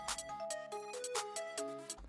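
A bright, chiming electronic hyperpop drill pattern of short tonal hits and panned rolling drum bursts, shifting in rhythm with a steady beat, mid-loud and up close.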